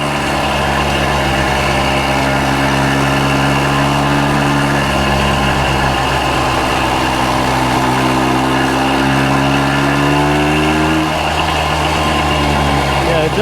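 A 1965 Montgomery Wards Benelli scrambler motorcycle engine runs steadily close by, a continuous idle with some rattle, holding an even drone with a slight pitch rise near the end while a voice talks over it.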